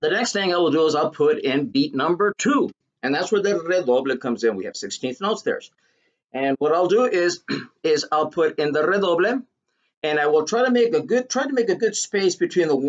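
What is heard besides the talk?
No everyday noises stand out.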